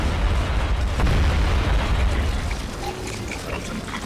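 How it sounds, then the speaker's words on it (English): Cannon fire booms during a battle to defend Akkala Citadel in Hyrule Warriors: Age of Calamity, in a loud, dense wall of rumbling blasts that keeps going and eases slightly toward the end. "Cannon fire!"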